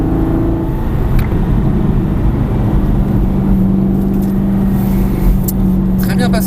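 A loud sports car engine drones steadily close by on a track lap, its tone holding and then pulling higher as it accelerates out of a corner, with a voice talking over it.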